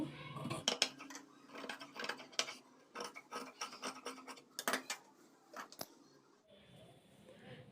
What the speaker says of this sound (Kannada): ಈ ಎಕ್ಸ್ಟ್ರಾ ಪೀಸ್ನ ಕಟ್ ಮಾಡ್ಕೋಬೇಕು